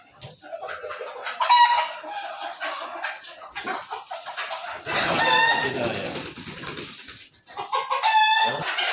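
Gavthi (country) rooster and hens in a poultry setting, with repeated clucking, a crow and busy fowl calls close by, while someone talks intermittently.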